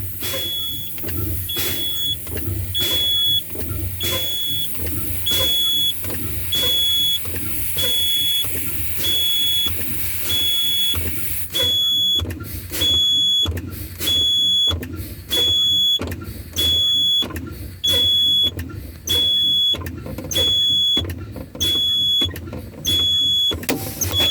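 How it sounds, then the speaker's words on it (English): Inside a truck cab, a steady pulsing low-air warning buzzer beeps in a regular rhythm over a running engine's rumble as the air brakes are fanned, with sharper air hisses and a faster alarm pattern partway through. "So I'm going to fan my brakes until they pop out."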